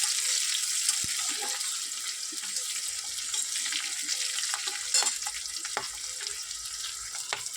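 Green chilli and garlic fry in hot oil in a pan, giving a continuous hissing sizzle with a few soft stirring clicks and knocks scattered through it.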